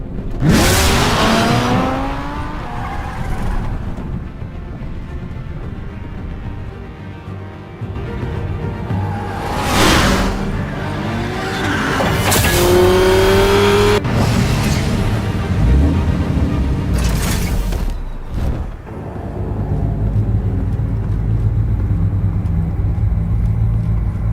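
A video game car chase in Batman: The Telltale Series mixes revving engines and passing cars with several sharp whooshing surges and a skid squeal, over a continuous rumbling background.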